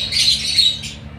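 A bird gives a loud, close squawk, then a second shorter squawk right after, with a quiet background.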